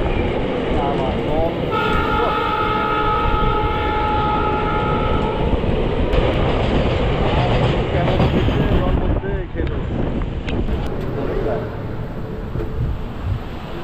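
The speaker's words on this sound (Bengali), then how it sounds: "মালগাড়ি" A goods train rolls past in a steady, loud rumble of wagons, with sustained tonal squeal or horn-like bands early on and continuous rail noise throughout; voices murmur faintly underneath.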